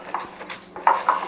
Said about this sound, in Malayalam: സ്ലൈസർ ഇങ്ങനെ അടിക്കുന്നതിൻ്റെ ശബ്ദം കേട്ടോ